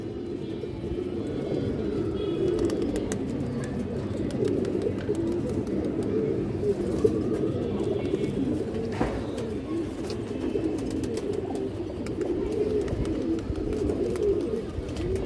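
A flock of strong, lively domestic fancy pigeons coo steadily and close up for the whole stretch, a continuous layered murmur with no talking.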